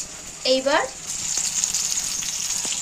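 A steady sizzle of nigella seeds tempering in hot oil in a wok, with a brief rising squeak early on and a few faint clicks.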